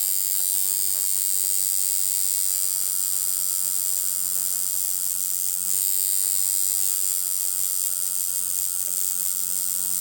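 A handmade tattoo machine buzzes steadily and close up, a constant electric hum with a slight rise in pitch midway, no voices.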